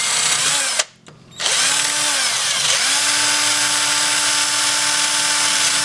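A power drill with a thin bit bores into textolite while making a knife handle, a close high whine that stops briefly and then resumes steadily to the end.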